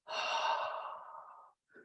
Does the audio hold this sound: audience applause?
no